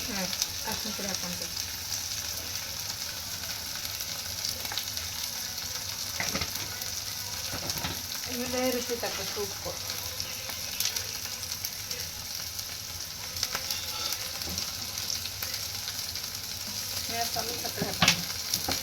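Onions, green chillies and tomatoes frying in oil in a home kitchen, a continuous close sizzle with scattered scraping and stirring clicks from a utensil in the pan.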